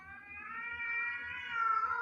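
A cat in a horror movie lets out one long, drawn-out meow, clear and moderately loud. A low rhythmic pulsing sits underneath.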